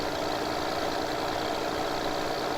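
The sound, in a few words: tractor engine in Farming Simulator 2015 video game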